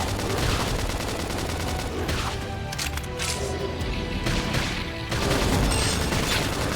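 Rapid gunfire and blasts crackle continuously through a battle in the video game Xenoblade Chronicles X, loud and dense with layered shots and impacts.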